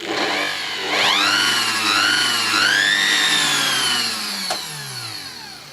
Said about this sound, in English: Let's try that 600 watt vacuum cleaner.